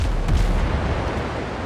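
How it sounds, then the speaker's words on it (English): Enemy ship cannon fire in the pirate sailing game Windrose, a heavy low boom rolling into sustained rumbling noise, loud and close, no voices. "You're firing at me already?"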